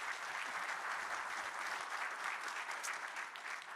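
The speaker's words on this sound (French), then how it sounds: "Merci beaucoup, on peut les applaudir." Steady applause from a seated conference audience at a biodiversity colloquium fills the room, a dense, even wash of many hands clapping at moderate distance, sustained without a break and with no talk over it.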